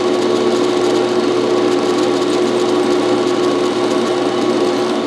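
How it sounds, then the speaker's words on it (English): A drill boring quarter-inch clearance holes for a homemade wood lathe in a workshop, running as a loud, continuous, steady whine throughout with no talk. "now I'm drilling the holes that will match up with these"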